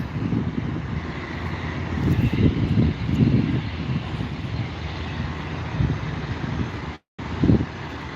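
Allegiant Airbus A319 airliner at an airport, a sustained jet rumble with gusty wind buffeting the microphone and a brief dropout near the end.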